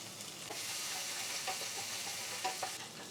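Crushed garlic, ginger and curry leaves sauté in a pan, making a soft, continuous sizzle with a few light scraping stirs, faint and with no talking.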